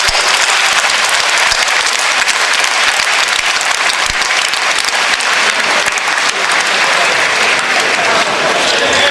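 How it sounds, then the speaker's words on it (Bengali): Sustained applause from an audience filling the hall at Alexandra Palace in London, dense and steady throughout with no break, loud and close. "তাদের জন্য আমরা একটা হাততালি দিই"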